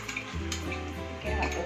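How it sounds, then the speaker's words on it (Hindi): Ingredients being roasted and stirred in desi ghee in a pan give a steady sizzle, with close scraping strokes from the spoon and a louder stir near the end. No one speaks. "देसी घी ऐड करके बस हमें इसे फिर एक बार अच्छा भून लेना है"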